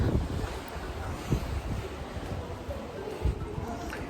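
Strong winter wind in Antalya buffets the microphone outdoors in wet weather, a steady rough roar with gusty low thumps running through the whole stretch.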